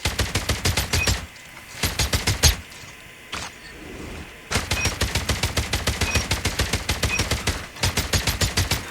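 Rapid bursts of automatic fire from the Oden in Call of Duty Mobile ranked Guns Blazing gameplay, several long loud strings of steady shots separated by short pauses, with one brief single crack in a gap.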